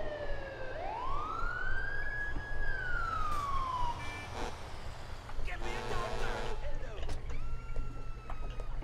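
In the video game GTA IV, an ambulance siren wails up and down loudly, then shifts to rapid electronic yelps, with steady engine rumble and game noise underneath.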